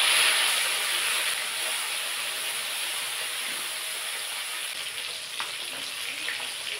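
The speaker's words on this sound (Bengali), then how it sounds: "এবার মাছগুলো ভেজে নেব।" Koi fish frying in hot oil in a kadai: a steady, fairly loud crackling sizzle that holds throughout, slowly easing a little, with no one talking.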